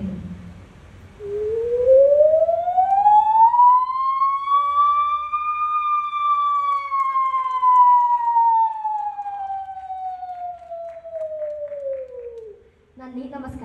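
A performer's voice imitates a rising and falling siren wail at a mimicry stage show, one long smooth sweep that climbs, holds and slowly falls, loud and close, with faint crowd noise at the edges.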